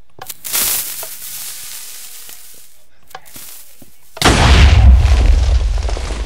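Cannon shot in a pirate battle royale game, sharp thuds early, then a loud, close boom that rolls into a sustained crackling rumble to the end.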